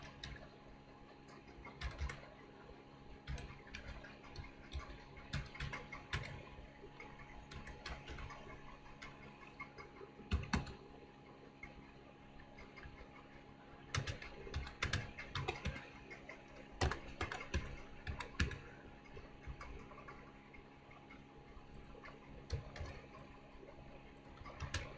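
Quiet, close clicking on a computer keyboard while code is typed, irregular bursts of keystrokes with short pauses over a soft steady hum.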